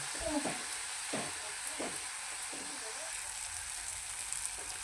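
Masala with crushed ingredients frying in oil in a pan, a constant bright sizzle with several soft rhythmic scraping stirs, close and moderately quiet, with no talking.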